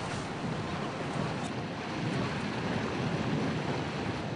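Orca-made wave washing over an Antarctic iceberg: a steady, loud broadband rush of surging water, close and continuous without pauses.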